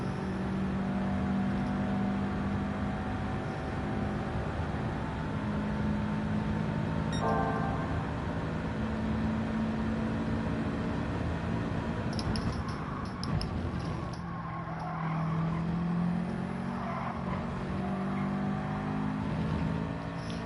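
A car engine in Gran Turismo 7 hums and revs steadily with rising and falling tones over a long stretch, a constant moderate drone with a brief click midway.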